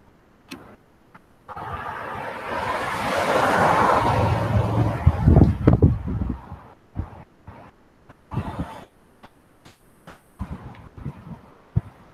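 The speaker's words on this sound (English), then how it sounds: "The wind's kind of blowing everything around here." Strong dust-storm wind buffets the microphone in a long, rumbling gust that swells and then fades, followed by scattered bumps and rattles in the quieter stretch.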